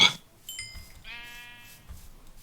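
Sheep bleating in a Minecraft-style survival game, one short wavering baa following a brief higher call, loud and close against quiet game background.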